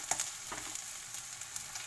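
Onion pieces and vegetables fry over a high flame, giving a faint, steady sizzle with a few soft stirring ticks and no voices.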